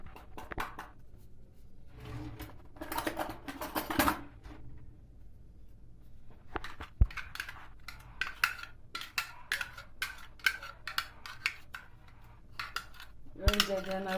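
A spoon clinks and scrapes around a bowl as grated garlic is stirred into yogurt, a series of irregular close taps and scrapes with short pauses, louder clatters near the start and end.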